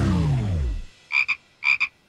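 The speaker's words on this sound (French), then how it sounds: "Pas aujourd'hui, ma grande grenouille!" A big cartoon frog gives two pairs of short, resonant croaks, close and distinct, after a falling whooshing tone fades away.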